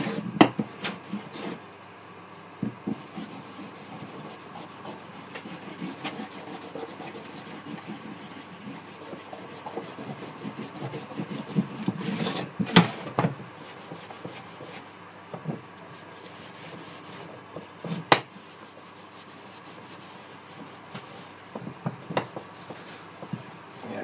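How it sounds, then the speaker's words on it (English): A damp piece of cloth is rubbed over a carved wooden hammerhead shark model. It makes soft, continuous scrubbing and brushing strokes with scattered light taps and knocks, close up and fairly quiet, and no one talks. "Now I'm going to take a little bit of cloth and I'm going to give it a rub."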